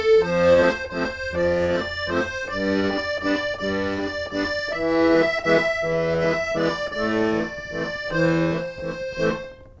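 Accordion playing the chord progression of a song, steady rhythmic pumped chords with sustained reedy harmonics, loud and close, alone without talk.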